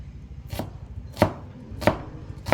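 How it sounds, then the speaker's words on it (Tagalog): A knife slices through a white onion in four crisp, evenly spaced chops, close and clear, with no one talking. "Slice natin."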